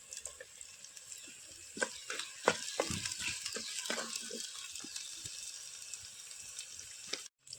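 Onions frying with a pinch of salt in a pan for a Konkani-style squid recipe in a village kitchen: a steady low sizzle with scattered clicks and stirring scrapes, fairly quiet, no talk.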